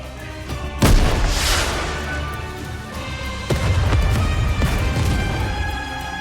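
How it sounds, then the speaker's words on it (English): Rocket launcher fire and explosions in the Nikke game, with heavy booming blasts and sharp impacts over a sustained rumbling battle din, loud and close, with no voices. "a shell flies from the rocket launcher. And a resounding explosion causes the entire snowfield to be blanketed in thick plumes of white smoke"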